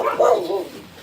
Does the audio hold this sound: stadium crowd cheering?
no